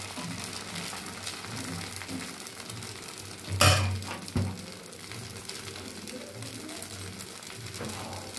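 Dosa batter is spread in a hot oiled pan and gives a soft continuous sizzle, broken midway by a short scrape and clatter of a utensil.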